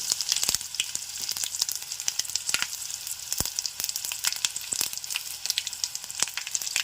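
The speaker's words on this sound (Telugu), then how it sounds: "ఇదిగోండి కరివేపాకు చడబడి చేసేస్తుంది" Curry leaves and mustard seeds crackle and spit in hot oil with garlic, fenugreek and cumin, cooking for an egg and drumstick curry. Dense, irregular pops and snaps ride over a bright hiss, close and lively, with no speech.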